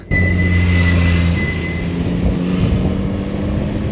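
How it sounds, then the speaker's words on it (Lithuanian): A motorcycle on a mountain road, heard as a loud, steady engine drone that sets in abruptly and holds its pitch before easing slightly as it passes, mixed with wind noise. "Praleisim motociklą."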